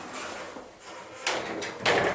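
A hydraulic glass elevator's doors slide shut with soft mechanical whooshes and a couple of firmer thuds near the end, fairly close and moderately loud over a quiet hum.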